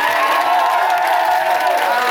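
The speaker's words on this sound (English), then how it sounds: "give them a round of applause" A Big Brother UK studio audience cheers and applauds in a loud, dense roar of voices and clapping, steady throughout the short stretch.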